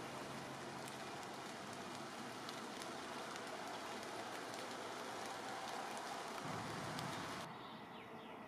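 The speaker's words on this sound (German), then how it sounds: "Jetzt hat es doch angefangen zu regnen." Steady warm rain patters around a small rock shelter on a rocky forest trail, a dense even hiss of drops close by, with a few faint bird calls behind; no one speaks.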